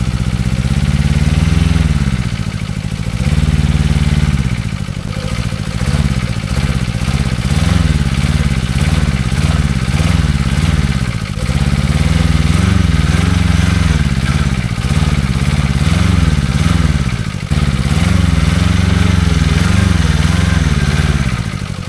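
A diesel microcar engine revs hard and continuously while the car is stuck on a muddy off-road hump, loud and close, its pitch rising and falling in repeated surges without a break.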